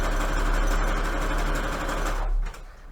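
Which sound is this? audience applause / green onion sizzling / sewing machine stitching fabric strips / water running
sewing machine stitching fabric strips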